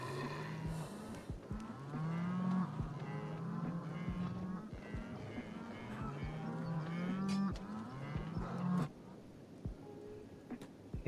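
Cattle in a video game low repeatedly in long drawn-out moos, several calls overlapping at close range over a faint windy background, with no talk.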